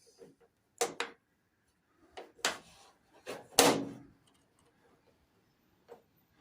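Someone repeatedly tries the door of a Simca Aronde car while the latch fails to catch. Several sharp, close clunks and knocks come in an uneven sequence, with quiet gaps and one faint knock near the end.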